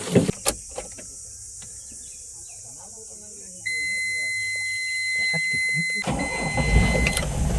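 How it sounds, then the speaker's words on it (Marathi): A car sits idling in the evening before setting off, with scattered clicks and voices, then a steady electronic chime and beeping, and finally a louder rumble as the engine comes up near the end. "चला आता आपण गाडी चालूया"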